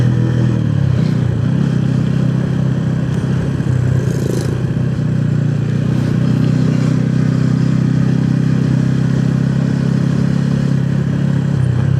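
Motorcycle riding along a road during a long-distance touring trip in Indonesia, with a loud, continuous engine drone and road rumble close by and no pauses, plus some wind and rattling.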